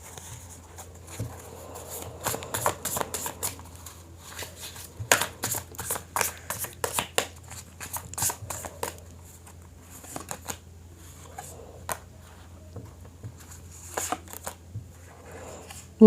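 Tarot cards are shuffled in bursts of crisp riffling and flicking close to the microphone, dense clusters of slaps broken by short pauses, with no talking.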